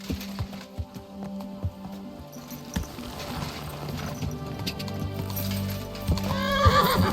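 Hooves clip-clop in an uneven rhythm in the video game Kingdom Come: Deliverance 2, then a horse whinnies loudly near the end, with a low ambient hum underneath.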